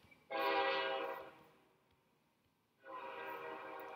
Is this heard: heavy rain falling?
no